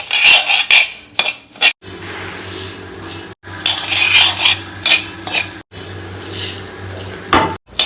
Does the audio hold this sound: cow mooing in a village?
no